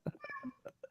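A small cat meows several times in quick, faint bursts, its high, short cries mixed with a little background noise indoors.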